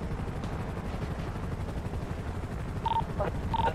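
Gunfire in a video game police raid with a helicopter involved, a dense continuous roar of rotor-like rumble and rattling shots, plus two short electronic beeps near the end.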